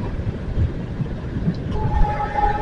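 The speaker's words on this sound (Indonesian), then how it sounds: "Ada suara kereta tuh." A train heard at a railway crossing on the central route near Pantura toward Cirebon, a steady low rumble with wind noise and a faint sustained horn-like tone late on, captured from a passing car with people talking.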